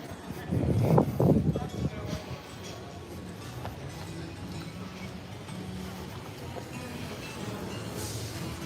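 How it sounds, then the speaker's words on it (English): A train rolls past at Magic Kingdom theme park, a low rumble that swells briefly, then settles into a quieter steady hum. "There's the train."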